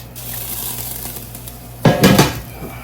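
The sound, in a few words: broth poured into pot of shredded greens and mixed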